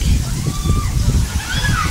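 People swim and splash in the water at a beach cove, with steady sloshing and scattered splashes close by, mixed with a busy murmur of children's and adults' voices throughout.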